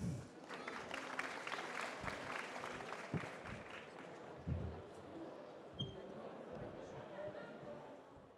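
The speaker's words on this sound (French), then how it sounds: "Sous vos applaudissements." Audience clapping at a marketing conference in Paris, a moderate spread of applause from a seated crowd that starts fuller and thins out, with a few louder thumps and low murmuring underneath.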